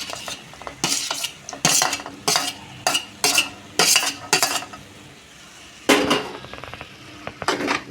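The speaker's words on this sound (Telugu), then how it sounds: "మొత్తం కలుపుకుంటున్నాను నేను" Chopped tomatoes and lightly golden onions stirred in a pan for a masala curry, with loud, distinct metal spoon strikes and scrapes in a steady rhythm, a short pause midway, and a faint sizzle underneath, with no voice.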